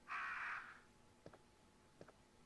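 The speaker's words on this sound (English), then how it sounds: "And there's crows in here." A crow in the video game Resident Evil Mortal Night gives a single loud caw, followed by a few soft, short flutters or clicks in an otherwise quiet space.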